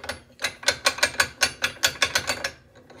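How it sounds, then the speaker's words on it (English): A ring tool handle ratchets through a run of about a dozen sharp, evenly spaced mechanical clicks, close and fairly loud, with no talk. "it'll allow this to have a ratcheting effect like this"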